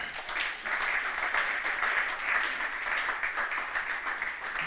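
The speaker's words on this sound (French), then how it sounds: "Est-ce que tu peux acclamer pour la parole de Dieu?" A church congregation applauding at a Sunday Christmas service, a steady dense wash of many hands clapping together, fairly even in loudness throughout with no pauses.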